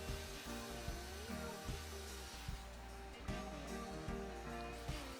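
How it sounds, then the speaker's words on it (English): A power drill whines steadily through wood, its pitch dipping and surging under load with a few short bumps, close and fairly loud. "we're gonna go right ahead and drill all the other holes"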